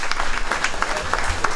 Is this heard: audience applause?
yes